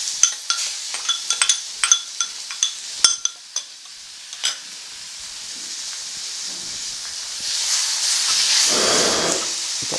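Grated raw mango tipped into a hot pan for mango rice and stirred: a string of sharp spatula scrapes and taps, then a steady sizzling hiss that swells near the end, close and fairly loud.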